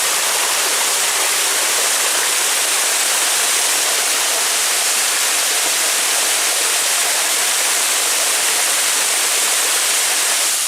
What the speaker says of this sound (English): That's a little hard to see the waterfall through all those branches and trees.